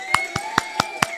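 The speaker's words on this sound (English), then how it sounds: "Let's give them a clap." A small audience claps in a slow, sparse rhythm, five separate claps evenly spaced over about a second, close and fairly loud against a quiet background hum.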